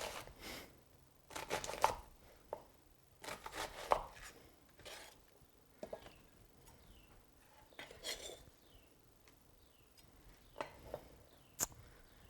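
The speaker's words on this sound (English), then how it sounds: "before chopping this, I'm actually going to cut off the other end, and this just makes chopping the onion a bit easier" A kitchen knife chops an onion on a cutting board in sharp, irregular clusters of crisp taps and crunches, close and quiet, with short pauses between bursts.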